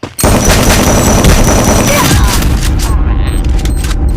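Loud, dense bursts of gunfire and booming blasts fill the scene continuously in the video game Free Fire, close and heavy, with a rumbling low end throughout.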